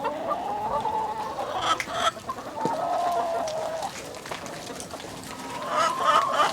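Several hens cluck and murmur close by, with soft scattered calls rising and falling over a low farmyard background.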